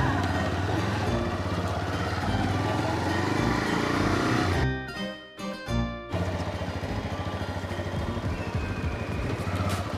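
A brand-new motorcycle fresh from the showroom rides along with a steady, loud engine drone and road noise, briefly dipping mid-way before resuming at full level.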